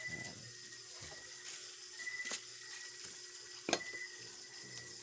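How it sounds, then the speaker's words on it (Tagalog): Food frying in a pan in the evening gives a steady, quiet sizzle that runs throughout, with a few brief sharper crackles and clinks rising above it. No one speaks. "tayo ay magpiprito"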